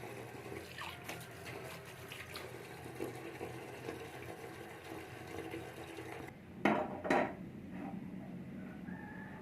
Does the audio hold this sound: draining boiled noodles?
yes